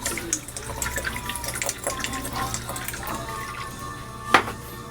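Vinegar pours into a cooking pot of pangat sa kamatis, a soft continuous liquid trickle under kitchen background noise, with a brief clink near the end.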